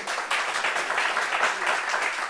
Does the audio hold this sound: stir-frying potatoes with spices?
no